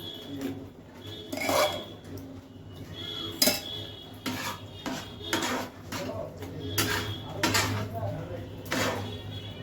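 A spoon clinks and scrapes against a pan as boiled pasta is stirred into white sauce, in irregular bursts of metallic knocks over a low background hum.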